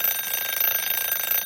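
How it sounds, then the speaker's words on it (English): A timer alarm goes off with a continuous, rapid electronic beeping that sounds steadily and alone at moderate loudness. "there's the timer."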